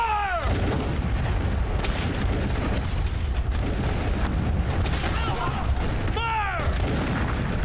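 A battle scene with musket gunfire, dense crackling and booming shots layered over a loud rumbling din, with sharp whistling sweeps near the start and again toward the end.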